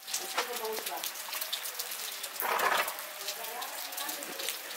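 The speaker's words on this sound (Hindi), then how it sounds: "अभी भी बारिश हो ही रही है।" Steady rain falls over a village in Bihar during a heavy downpour, a continuous hiss of drops with a brief louder gush midway, close and moderately loud.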